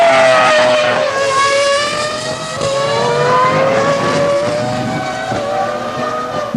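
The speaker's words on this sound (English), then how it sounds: "the media focused on Michael Schumacher as the Ferrari F2002 broke cover to make its Grand Prix" A Ferrari F2002 Formula 1 car's engine screams at high revs, a loud sustained whine with rising and falling pitch as it accelerates and shifts, close and steady throughout.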